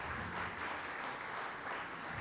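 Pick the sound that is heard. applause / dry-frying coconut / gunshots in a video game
applause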